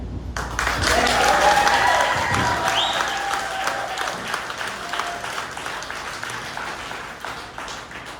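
An audience at a village mayoral debate in Port Jefferson breaks into applause, a full swell of clapping with some cheering and a whoop that gradually thins out.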